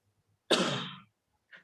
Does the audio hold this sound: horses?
no